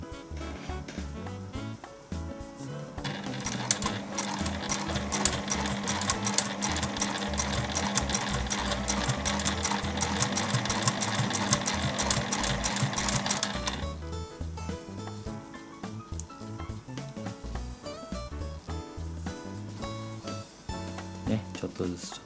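A sewing machine stitches dog clothes, a fast rhythmic mechanical whir that starts after a few seconds of quiet handling, runs steadily for about ten seconds and then stops, with soft handling noise before and after.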